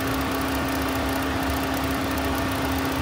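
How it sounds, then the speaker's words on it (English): A 2011 Ford Edge's 3.5-liter six-cylinder engine idles with the hood open, giving a steady low hum and a constant mechanical whir with no revving or voices. "This is going to be your six-cylinder engine."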